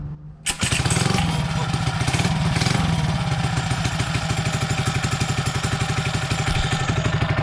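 A 79cc small gas engine fitted with 1.3 ratio rockers cranks once, then catches and runs steadily. Its loud, close, rapid chugging idle holds an even rhythm with a clattering edge.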